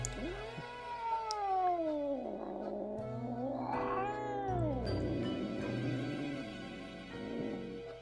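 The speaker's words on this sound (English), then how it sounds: "she rolls out a sequence of disapproving meows" A cat in the video game Death and Taxes lets out a sequence of drawn-out, disapproving meows, several rising and falling wails close up and fairly loud, with no talking over them.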